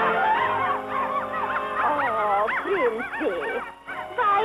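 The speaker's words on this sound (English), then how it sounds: "the cutest little puppies" A litter of puppies whimpers and yips in a continuous high, wavering chorus of whines with occasional sharp little barks, close and steady throughout, with no talking over it.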